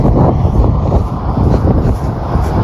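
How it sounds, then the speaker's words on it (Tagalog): Strong spring wind roars and buffets the microphone in a backyard, a loud, steady rush with gusty low rumble throughout. "sobrang lakas ng hangin"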